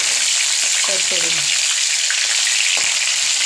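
Bombay duck fish fry in a pan with a loud, steady sizzle; a few brief voiced sounds and a clink rise over the frying.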